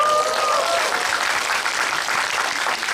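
A theater audience at a Korean film screening and Q&A for Hunt claps in dense, sustained applause that fills the hall at steady strength, with a faint voice near the start.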